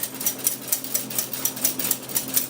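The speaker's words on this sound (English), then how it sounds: "I actually use my whisk to whisk it through the strainer" A wire whisk works thick bechamel sauce through a handheld metal strainer, giving a steady run of quick scraping, rasping strokes at a close, even pace, with no voices.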